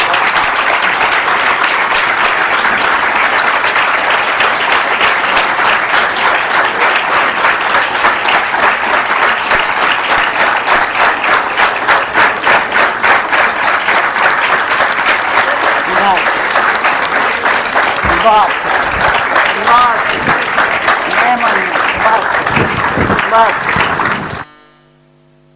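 A lecture audience breaks into long, dense applause and a standing ovation, loud and close, a steady wash of clapping that continues for over twenty seconds before cutting off abruptly.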